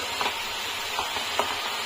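A big panful of fourteen leafy greens (choddo shak) frying, a steady soft sizzle broken by a few light scraping stirs at regular intervals, close up with no voices.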